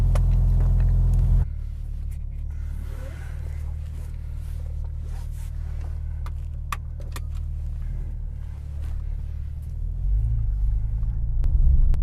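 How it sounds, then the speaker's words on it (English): BMW G82 M4 Competition xDrive with a deep, steady engine rumble filling the cabin, dropping briefly after a loud opening burst and swelling again toward the end as it accelerates. "I can hear the engine growling."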